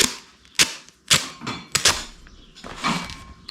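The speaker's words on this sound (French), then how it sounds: "Je vais mettre le scotch." Adhesive tape is ripped off a roll in several sharp, rasping bursts, close by, with quiet handling between pulls.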